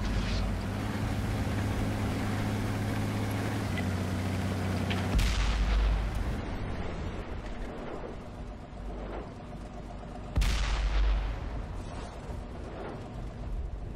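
Deep artillery blasts in the World of Tanks video game boom out twice amid a steady rumbling engine drone, each shot a sharp loud thump with a lingering rolling tail.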